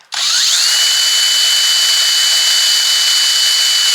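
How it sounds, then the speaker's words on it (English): A power drill spins up quickly and holds a loud, steady high whine while boring into a wooden dashboard, continuous and close with no talking. "Let the drill do the work."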